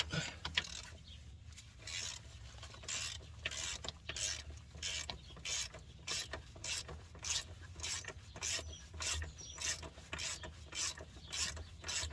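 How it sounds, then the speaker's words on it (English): A ratchet with a 3/4 inch socket works loose bracket bolts on a Case International 395 tractor, giving a steady run of quiet, rhythmic clicking strokes, close and repeated without pause. "This is a 3/4 inch socket. Taking these two support bracket bolts out"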